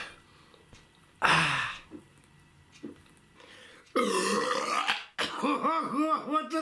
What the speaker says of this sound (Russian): Самую мощную в мире отрыжку.